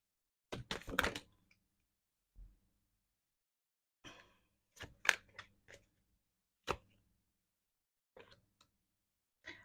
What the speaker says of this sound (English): So let me just shuffle the cards